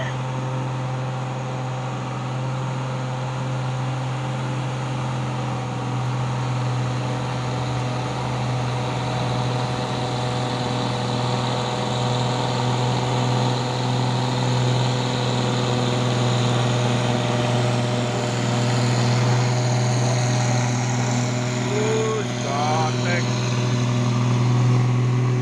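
Orange 6x2 trailer truck loaded with pile-driving piles climbing the Bukit Kodok hill, a steady loud diesel drone that strains and builds over the climb while someone talks nearby.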